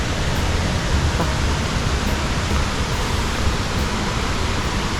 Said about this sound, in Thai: อันนี้คือด้านบนของน้ำตกเป็นปะ